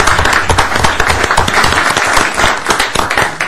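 Sustained, loud applause from a room of people at a county board of commissioners meeting, steady clapping filling the whole stretch with no pause.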